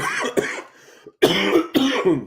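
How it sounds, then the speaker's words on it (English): A person coughs and clears their throat a few times in quick, close, raspy bursts with brief gaps between. "I coughed myself."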